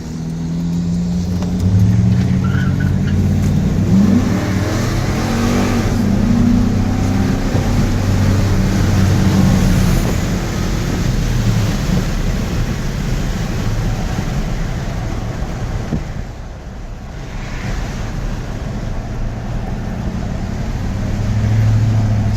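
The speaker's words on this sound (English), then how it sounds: "I mean, for a truck this size, this thing's fast." A large truck driving fast gives a loud, steady engine and road roar throughout, with a brief dip in the middle before the roar builds again, and no one speaking.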